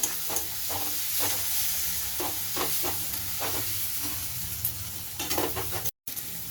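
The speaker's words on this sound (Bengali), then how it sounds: "আদা রসুনের পেস্টটাও একটু ভালো করে আমি ভেজে নেব।" Ginger garlic paste frying with onion in hot oil, a steady sizzle broken by repeated stirring scrapes at an uneven rhythm, close and moderately loud, with one brief dropout near the end.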